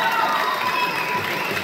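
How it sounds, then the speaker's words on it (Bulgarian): Festival crowd applauding and cheering for a man named Kotse, a continuous dense wash of clapping and crowd noise with voices mixed in, loud and sustained. "Искам аплодисменти за Коцето"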